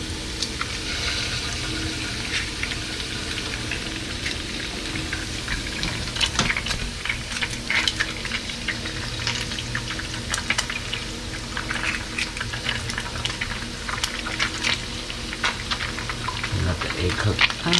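Two eggs cracked into hot oil for chicken Pad See Ew fry with a continuous crackling sizzle, dense popping spatter running steadily and growing slightly busier toward the end.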